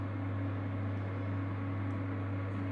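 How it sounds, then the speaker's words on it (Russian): Induction cooktop running at full power, heating a moonshine still: a steady low electrical hum with an even hiss over it, unchanging from start to end. "Индукционная плита работает на полную мощность."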